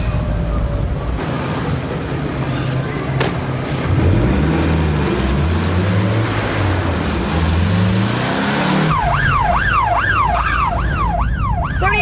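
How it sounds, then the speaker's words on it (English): A wailing siren rises and falls in rapid cycles over the hum of road traffic, loud and close, arriving near the end. "Ambulance is here."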